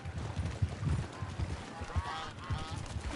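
A bird in Red Dead Redemption 2, likely a goose, gives loud, repeated honks that run steadily over muffled horse movement and outdoor game ambience.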